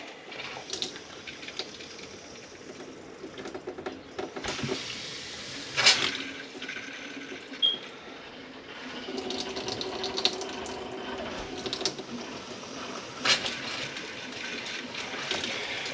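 Water runs from a camper's faucets to flush out antifreeze, a moderate steady stream with a few louder splashes and surges along the way, no voices over it.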